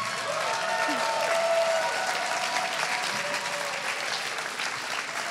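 Audience applause at a closing-night gala event, a sustained, even wash of many hands clapping at moderate distance, with faint crowd murmur underneath.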